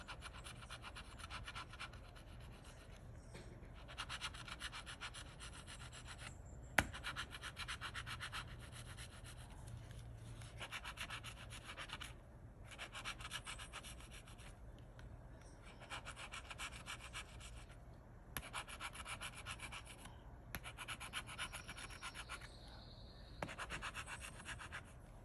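Gold Rush Ltd lottery scratch-off tickets being scratched, a long run of close, dry rubbing and scraping strokes in short repeated bursts, steady and fairly quiet, with a few brief pauses and no talking.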